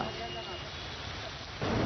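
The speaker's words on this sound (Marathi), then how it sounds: "अशा संपूर्ण परिसरात सध्या पाऊस कोसळतोय" Heavy monsoon rain pours over Mumbai's eastern suburbs as a dense, steady wash of noise that swells louder toward the end.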